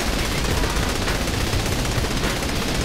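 Sustained rapid gunfire shooting down aircraft in Saints Row: The Third, a dense, loud, continuous burst of machine-gun fire with no breaks across the whole stretch.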